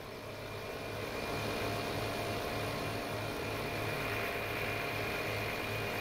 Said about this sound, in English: Oh, you got the loud, cool tractor.